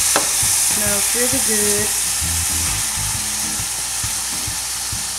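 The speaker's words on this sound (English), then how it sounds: "Okay, so I removed the lid and now I'm letting it cook" Jerk chicken stir-fry sizzling loudly in an uncovered pan, a constant close frying hiss throughout, with a person talking briefly over it.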